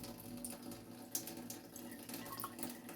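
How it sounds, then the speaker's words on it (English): Tap water runs steadily into a jar holding cherry tree resin, a continuous splashing hiss with small irregular spikes of trickle and drip, fairly close and without talk. "So I'm just going to add some water."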